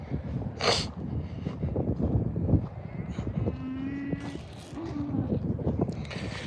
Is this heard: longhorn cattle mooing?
yes